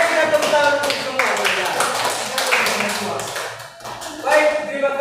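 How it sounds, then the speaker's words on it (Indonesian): Students in a classroom clap together after a quiz, a short burst of brisk applause mixed with voices and a teacher speaking. "Mari kita tepuk tangan untuk semua."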